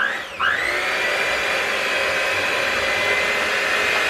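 A steady, loud mixer whirs continuously after a brief start-up, blending tres leches cake batter made with almond milk and vanilla extract, with no talking over it.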